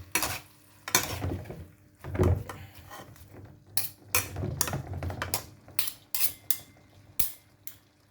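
Cabbage cooking in a pan, with intermittent clinks and scrapes of a utensil against the metal and soft stirring sounds, close and moderately loud, with no talking.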